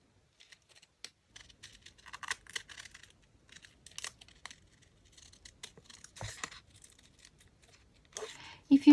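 Scalloped scissors cut through envelope paper in short, quiet snips close by, with light paper rustling between the cuts and a brief louder crinkle near the end.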